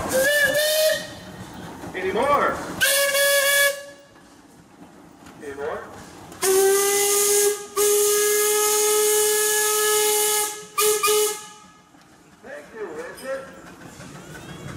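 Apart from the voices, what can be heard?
steam engine whistle at a pioneer engineers parade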